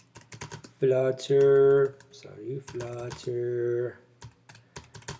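Typing on a computer keyboard while entering a Flutter command, a quick run of key clicks mixed in with someone speaking close by.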